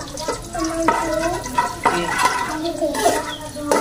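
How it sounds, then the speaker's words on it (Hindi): Spices roast in a pan that already holds fried potatoes, with repeated scraping strokes of a spoon and squeaky, ringing metal tones over a continuous close sizzle. "और थोड़ा सा ना मसालों को भूनूंगी"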